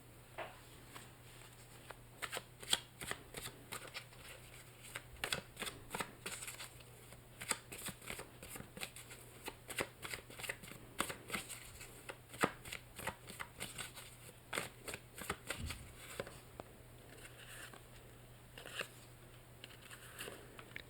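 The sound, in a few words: shuffling and drawing tarot cards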